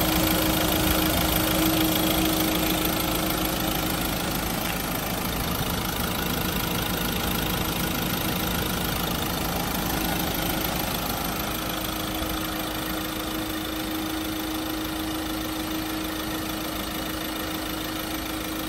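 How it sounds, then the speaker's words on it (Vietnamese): A 2018 Ford Ranger pickup with a 2.2-litre diesel engine idles steadily, a continuous even hum with a low tonal drone that holds for the whole stretch without talk. "Đây là tiếng động cơ đây, toàn bộ động cơ đang hoạt động. Xe sử dụng động cơ máy dầu"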